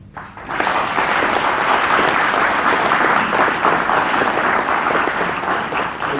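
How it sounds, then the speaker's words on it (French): A crowd applauds at the official launch by a communication minister, thanking broadcasting staff: a sudden swell of many hands that holds as a loud, steady wash for several seconds. "je voudrais pour ça qu'on vous applaudisse"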